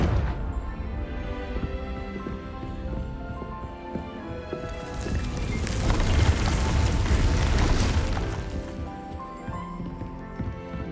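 A Confringo explosion spell in Hogwarts Legacy bursts into a broad, crackling blast that swells over a few seconds and then fades beneath ambient game sounds.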